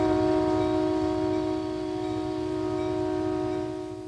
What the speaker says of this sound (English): The train has been moving for less than an hour